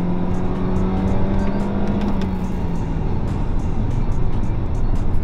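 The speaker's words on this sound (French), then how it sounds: "On va la lancer maintenant." A 12th-generation Toyota Corolla accelerating, heard as a steady engine note with a rising tone under loud road and wind noise, plus a rhythmic ticking throughout.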